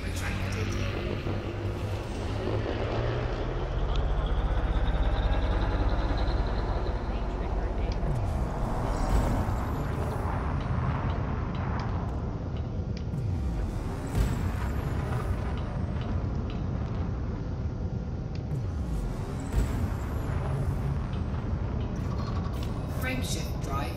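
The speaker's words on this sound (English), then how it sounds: "Ship released. Engines engaged." Spaceship engines engage in the video game Elite: Dangerous, a steady, heavy mechanical hum and rumble with periodic hissing, whooshing surges layered over it, continuous and fairly loud throughout.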